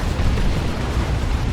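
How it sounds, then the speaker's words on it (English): Grenade launcher blasts from Catachan troops in the Dawn of War 2 strategy game, a dense continuous rumble of explosions with heavy low-end booms running throughout, loud and close. "Nice Catachan grenade launcher there"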